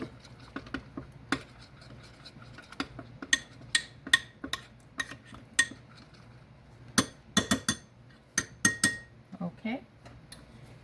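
Utensils repeatedly clink against a bowl while a red kale, apple, coconut and pecan salad is tossed. The taps and scrapes come in irregular clusters and sound close and crisp, over a faint low hum.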